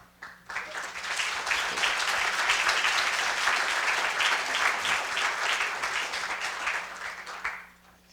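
An audience at the 2016 Laxalt Distinguished Writer Program gives warm, dense applause to welcome members of the Laxalt family. The clapping swells quickly, holds steady for several seconds, then tapers off.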